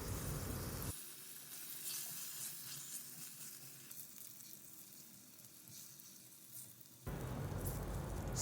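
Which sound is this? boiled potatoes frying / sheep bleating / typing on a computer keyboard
boiled potatoes frying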